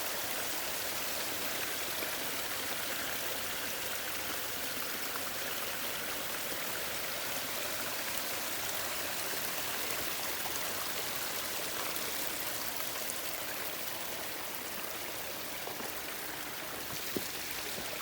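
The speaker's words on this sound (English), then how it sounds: "it has the dual waterfalls, little bridge over the water, and you can hear that amazing sound" Dual backyard waterfalls spill steadily into a garden pond beside a small bridge, a continuous close rushing and splashing wash that stays even throughout with no voices.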